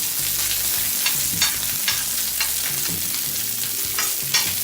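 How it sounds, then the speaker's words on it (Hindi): Cauliflower pieces frying on a tawa over a low flame, a loud continuous sizzle and crackle with rhythmic scraping and stirring strokes close up, no voices. "तो 5 मिनट इसको हम फ्राई कर लेंगे"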